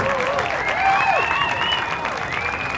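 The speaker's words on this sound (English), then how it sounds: "Can we give Joe another round of applause?" Sustained applause from a crowd fills the clip, with cheers and whoops rising over the clapping.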